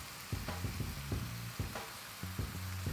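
Raw jackfruit curry sizzles as ground spices are stirred in, a spoon scraping the pan in quick rhythmic strokes over a constant frying hiss; close and fairly loud, no talking.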